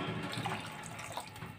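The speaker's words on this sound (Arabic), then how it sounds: "نزوده نص كوبايه ميه" Half a cup of water pours into a pot of quick-cooking seafood, a steady splashing stream lasting under two seconds with no talking.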